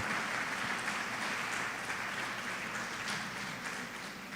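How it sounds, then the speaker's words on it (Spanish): A church audience applauds the chef who cooked, a dense, steady wash of distant clapping that stays even from start to finish with no voices above it. "Un aplauso al hombre, lo hizo bien."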